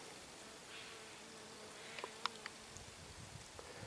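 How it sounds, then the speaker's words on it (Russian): A bee buzzing faintly around a flowering honey plant outdoors in mid-autumn, a soft continuous drone with a few brief clicks and ticks mixed in. "И пчелка гудит, крутится."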